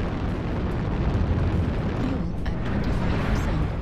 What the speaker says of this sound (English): my artillery strike.